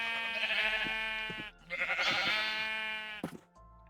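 Sheep bleat in the video game Minecraft, two long wavering bleats in quick succession, loud and close, with a short clipped sound at the end and no talk.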